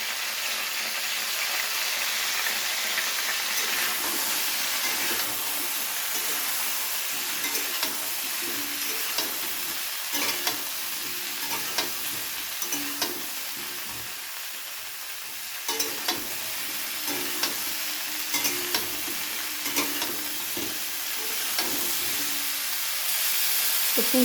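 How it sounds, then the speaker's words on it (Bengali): Cauliflower fries in a pan with a little salt and turmeric, a steady hissing sizzle running throughout with occasional soft stirring knocks, close and moderately loud, with no voices. "ফুলকপিটা ভেজে নেওয়ার সময়ও ফুলকপিতে দিয়ে দিচ্ছি সামান্য পরিমাণ নুন আর হলুদ"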